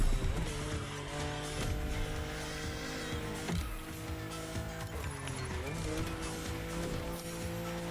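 A car accelerates in The Crew Motorfest racing game, its engine droning steadily with rising and shifting pitch and brief tire squeals, loud and continuous throughout.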